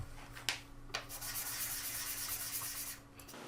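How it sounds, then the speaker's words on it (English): Sandpaper of 220 grit rubs lightly over the edges of bandsawn wood wedges for segmented eggs, a steady soft scratchy hiss with two brief sharper strokes near the start, fairly close and quiet, no talking. "This usually just requires using some 220 grit sandpaper to lightly pass over the edges to get rid of the fuzzies"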